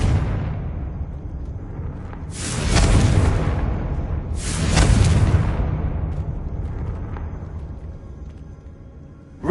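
Two booming blasts from the Confringo spell in the video game Hogwarts Legacy, each a loud broadband explosion with a rumbling tail, the second following about two seconds after the first.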